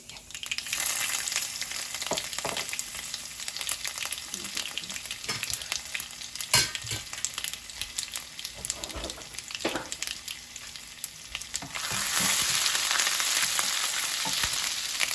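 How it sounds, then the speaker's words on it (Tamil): Mustard seeds, dried red chillies, ginger and raw mango sizzle and crackle in hot oil during a tempering for a coconut, mango and green pea sundal, a steady frying hiss with occasional stirring clinks. "பாருங்கள், கடுகு பொரிஞ்சிருச்சு. இந்த சில்லியை போடுறேன், வரமிளகாய்."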